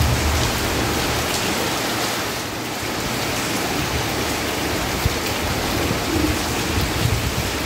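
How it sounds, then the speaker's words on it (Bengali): Steady rain falling outdoors the day after Cyclone Yaas, a loud, even wash of drops on surfaces with no breaks and no voices. "আবার বৃষ্টি এসে গেল।"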